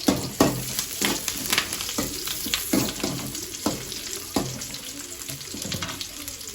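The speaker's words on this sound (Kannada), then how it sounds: "ಇವಾಗ ಫ್ರೈ ಮಾಡ್ಕೊಳ್ಳೋಣ ಇದು ಚೆನ್ನಾಗಿ ಫ್ರೈ ಆಗಬೇಕು ಮಾಡ್ಕೋಬೇಕು ಸ್ವಲ್ಪ ಕರ್ಬೇವು ಹಾಕೊಳ್ತಾ ಇದ್ದೀನಿ" Frying with curry leaves in a pan, a dense crackling sizzle with repeated sharp stirring knocks at irregular intervals, close and steady without speech.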